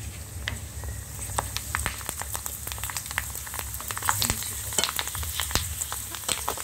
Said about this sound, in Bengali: দেওয়ার সাথে সাথেই কিন্তু ভাজা হয়ে যায়, বেশি একটা সময় লাগে না